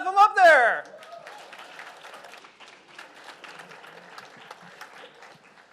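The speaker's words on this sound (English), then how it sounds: "let's clap them up there" A student audience at a campus mental health event claps for a student club team taking the stage, a brief, sparse, scattered patter following a loud burst of voices at the start.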